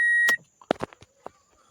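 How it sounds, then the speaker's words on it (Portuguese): Door-open warning chime in a 2003–2008 Toyota Corolla: one clear electronic beep at the start, followed by quiet clicks and thumps of handling inside the car. "Quando a porta está aberta ele fica apitando assim."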